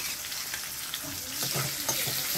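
Onion and coconut frying in hot oil for sambar give off a close, continuous hiss and crackle with faint stirring, growing slightly louder toward the end.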